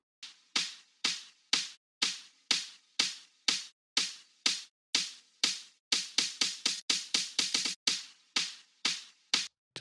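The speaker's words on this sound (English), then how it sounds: "This time I went with a bandpass and automated it" A techno drum roll run through a FabFilter Volcano 3 automated bandpass filter: thin, bright percussive hits with a steady pulse that speeds into a dense burst, then eases back. The hits are fairly quiet and clean, with no voices.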